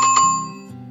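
A single bright notification chime rings out close and clear, a quick double-struck bell tone that fades within a second.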